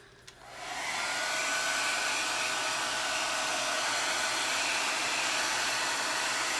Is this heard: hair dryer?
yes